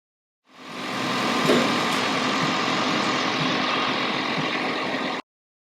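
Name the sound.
Toyota Prius engine running to bleed air from coolant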